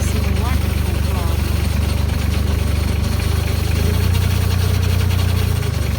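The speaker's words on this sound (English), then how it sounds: "You can hear that pump whining though." Running antique equipment gives a steady mechanical drone with a sustained whining pump tone over a low engine rumble, heard up close and unbroken.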